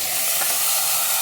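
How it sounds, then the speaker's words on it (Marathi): Cooked dal with tomato and turmeric goes from a pressure cooker into hot tempering, and a loud, steady hiss of sizzling fills the whole short moment, close up. "ती डाळ आता आपण फोडणीला घालणार आहोत."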